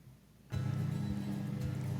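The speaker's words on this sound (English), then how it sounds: "if you can hear a lawnmower in the background" A lawnmower runs somewhere in the background, starting after half a second of quiet and holding a steady, low, droning engine hum to the end.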